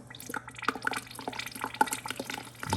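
Water running through a Frigidaire refrigerator dispenser to prime a new PureSource2 WF2CB filter, a faint, uneven trickle with spluttering drips and splashes, heard alone.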